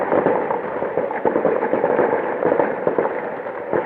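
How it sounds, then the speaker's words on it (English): Fireworks popping in the distance during a cricket match, heard as a dense, continuous crackle of small bursts with a steady roar and no voices over it. "it seems as if we've got some fireworks from somewhere"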